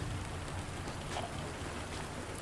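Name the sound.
rain in a horror video game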